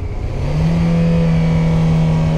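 Car engine of a learner driver pulling away, revving up to a loud, steady mid-pitched drone that holds constant, close and alone without any talk.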